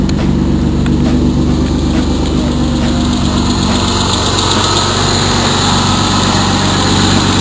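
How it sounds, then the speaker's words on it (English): A 1999 Mitsubishi 3000GT VR-4 with flash-tuned 16T turbos, RC550 injectors and an adjustable fuel pressure regulator, idling hot: a steady, loud, even engine drone close by with no talk over it. "Hot idle is perfectly normal"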